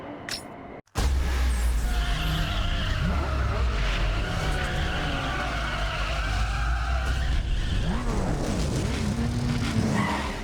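A Nissan Skyline races in Need for Speed Underground 2, its engine roaring steadily and loudly with repeated tire squeals and skids through corners, after a brief drop at the start; a voice speaks faintly underneath.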